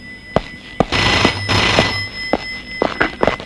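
A red telephone rings in a Telugu action film scene. A harsh ringing burst is mixed with sharp clicks and knocks, close and loud.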